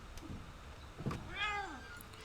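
A faint cat-like meow rises and falls once amid quiet ambient noise and soft thumps in the video game What Remains of Edith Finch.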